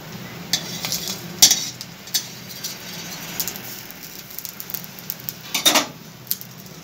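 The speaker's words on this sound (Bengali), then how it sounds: "একইভাবে আমি বাকি বড়াগুলো ভেজে নিচ্ছি।" Gram flour fritters frying in garlic-scented oil in a wok, with an even hiss of oil under scattered clinks and scrapes of a metal spatula, close and moderately loud, no talking.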